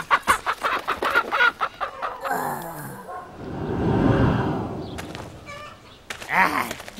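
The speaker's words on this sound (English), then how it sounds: "Chickens." Chickens in the Resident Evil 4 game, a run of loud, close clucks and squawks, then a rushing swell of game noise before more clucking at the end.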